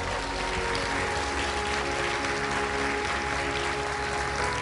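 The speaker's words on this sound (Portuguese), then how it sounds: "Agora aplauda Jesus." A church congregation applauds in steady, dense clapping that fills the room. No other sound stands out.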